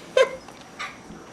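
A dog whimpers during a snowy blizzard, giving two short, thin whines about half a second apart, the first louder, heard close with no talking.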